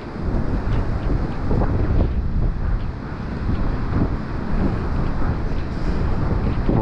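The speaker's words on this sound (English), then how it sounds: "Some lovely waves up here" A gale roars across the Paphos seafront in Cyprus, with heavy wind buffeting the microphone in a constant low rumble and breaking sea waves surging beneath it, loud and continuous, with no voices.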